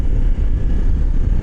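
A 2025 Honda CRF300L Rally motorcycle engine runs steadily under way, a loud continuous low rumble mixed with wind noise, with no voices.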